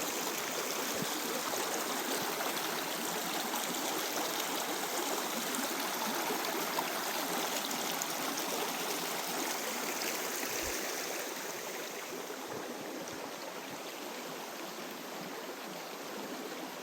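Gheerulla Creek rushing beneath a bridge crossing in a valley near Gheerulla Falls, a steady broadband stream wash, close and even throughout, easing slightly toward the end.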